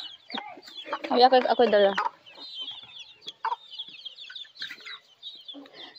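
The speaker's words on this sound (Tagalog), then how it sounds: "chickens and the roosters" Chickens and roosters cluck on a rural farm, with a loud, close burst of clucking followed by scattered softer clucks and calls, while a person briefly speaks.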